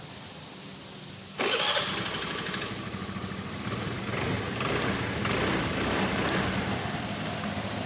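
A Honda Vario scooter engine fires up after starter repair, catching abruptly with a loud start and then settling into a steady, close idle hum.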